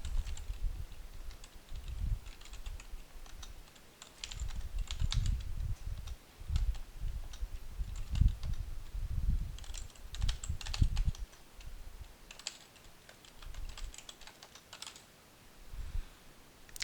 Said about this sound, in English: this time let's type something.